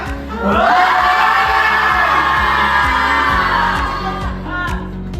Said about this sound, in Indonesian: Ayo coba teriak sekuat-kuatnya.